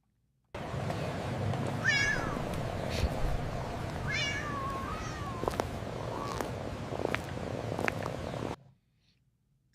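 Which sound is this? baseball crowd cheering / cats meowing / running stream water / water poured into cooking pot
cats meowing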